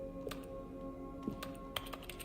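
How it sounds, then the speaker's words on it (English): Keyboard keys pressed in the video game The Stanley Parable: a few soft, scattered clicks and taps at moderate level over a steady background hum, with no talking. "whenever I press the button, it sounds like Stanley's pushing on the keyboard still"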